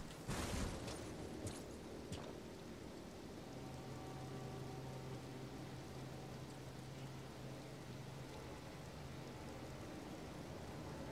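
Steady, dense hiss of heavy blood-red rain pouring in the Elden Ring video game's Caelid region, with a brief louder burst at the start and low sustained game ambience tones underneath.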